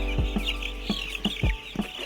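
Eight-day-old chicks clucking and peeping close by, a run of short repeated calls at an uneven rhythm over a low steady hum.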